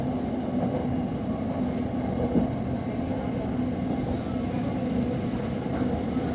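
Interior of a moving train riding out from Bang Sue station in Bangkok, a steady, loud rumbling roar with a faint hum throughout and no talk.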